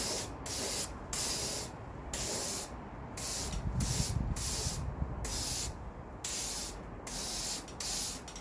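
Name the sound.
spray can spraying red oxide primer on car panel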